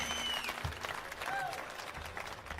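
A crowd at an Alberta independence rally applauds, with dense, sustained clapping that fills the space and a few scattered cheers over the top.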